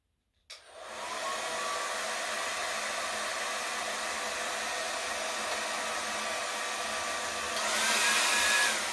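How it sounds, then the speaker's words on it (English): A hair dryer switches on and blows with a steady, loud whooshing whine, growing slightly louder near the end. "It makes the dryer a little bit louder"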